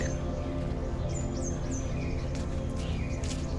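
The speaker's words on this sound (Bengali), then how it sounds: "তোমরা শুনতে পাচ্ছ কি আওয়াজগুলো পাখির?" Birds chirp and call in a quiet morning forest in Jhargram, West Bengal, with several short high tweets and whistles scattered over a steady low background hum, no voices heard.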